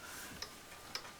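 Two crisp ticks, evenly spaced about half a second apart, from a chiming wall clock with an animated anvil-striking figure, heard alone and fairly faint in a quiet room.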